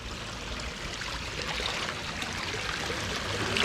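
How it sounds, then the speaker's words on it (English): Natural water runs through a concrete storm sewer, a steady rushing, gurgling wash with no breaks, fairly loud and close, with no voices over it. "This natural flowing water through here is working really good actually."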